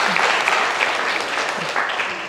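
Lively audience applause at a lecture gathering, a dense and fairly close burst of clapping that holds steady throughout, with faint voices mixed in underneath.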